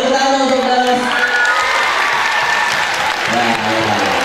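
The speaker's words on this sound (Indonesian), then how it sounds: "Ya, boleh tepuk tangan untuk Dalas." A short burst of lively audience applause for Dalas, steady and loud, with voices and faint shouts blending into the clapping.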